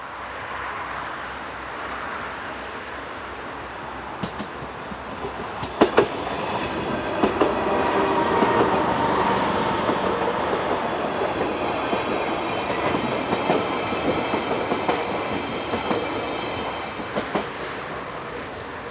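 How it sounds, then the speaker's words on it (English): A Swiss Class 130 train on a Luzern–Giswil service passes through Alpnachstad station, with rumbling wheels, rhythmic clicks over rail joints and faint squeals, loud and sustained throughout. "this Class 130 formation heads a service from Luzern to Giswil"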